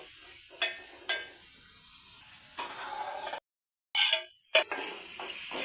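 Onions frying in oil with peas in a pan, a close steady sizzle punctuated by stirring scrapes and clinks, briefly cut to silence before the hissing resumes.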